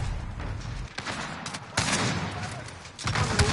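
Bursts of rapid gunfire crackle through a two-versus-two sniper match in a video game, with dense volleys separated by short gaps under the game's ambient noise.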